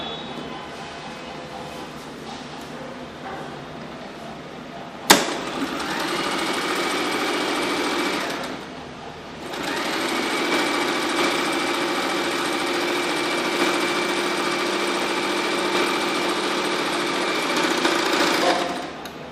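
A sewing machine stitches down the folded edges of a blanket, whirring loudly and close after a sharp knock. The motor runs steadily, pauses briefly midway, then resumes and keeps running.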